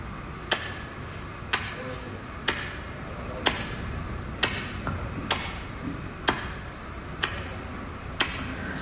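A mimicry artist at a school arts festival voices a chain watch's ticking, about ten sharp, evenly spaced clicks roughly once a second, close and clear against a quiet hall.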